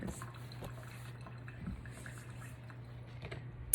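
Water drains and drips off a batch of soaked sea moss as it is poured out, a soft steady trickle with a low hum underneath and a sharp clink at the very end.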